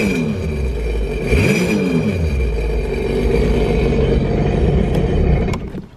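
Sea-Doo GTX 300 Limited jet ski engine from 2018, revved a couple of times while running on a flush hose, rising and falling in pitch over a steady, loud, close idle before cutting off near the end.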